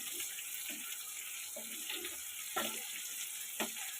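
Water is poured into a pan of spiced masala for a rohu fish curry, giving a steady close hiss and bubbling broken by a few sharp splashes and clinks, with no talking.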